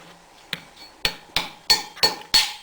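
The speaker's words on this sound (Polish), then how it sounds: "dużo wolniej idzie to tłuczenie niż w przypadku orzecha włoskiego" Hard-shelled heartnuts are pounded on a hard base to crack them, giving six sharp, close knocks at a steady, unhurried pace with quiet pauses between, no voices.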